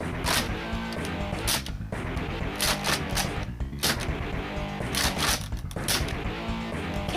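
Nerf N-Strike Raider CS-35 blaster firing foam darts at an angle, a run of sharp, close clicking pops spaced unevenly with short mechanical rattles between shots, no talking.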